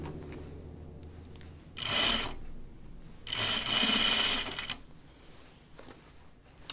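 A sewing machine stitches the cuff of a shirt dress sleeve in two bursts, one brief and one longer, each a close, rapid whirring hum with quiet gaps between.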